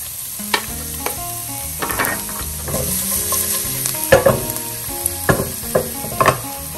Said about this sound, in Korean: 그 다음에 오일이 익어지고 있으면 마늘 넣습니다